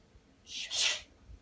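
A person imitates a sneeze with a quick breathy intake and a sharp hissing burst, one loud sneeze alone in a quiet room.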